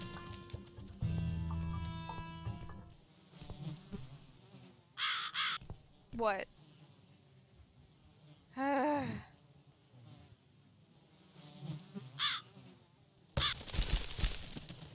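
A crow caws in a horror adventure video game, several harsh calls spaced between ambient game sounds and buzzing effects, with a player's brief speech.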